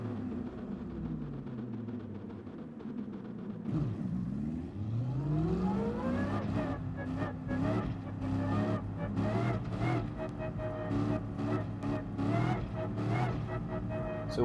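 Aston Martin race car in Gran Turismo Sport at Suzuka, engine note loud and continuous, revving up through rising gear sweeps with tire squeal and skidding noise throughout.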